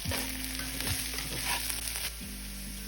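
Sweet plantain sizzles steadily in a hot pan for a Caribbean-style breakfast hash, a loud continuous fry with occasional stirring scrapes, no talking.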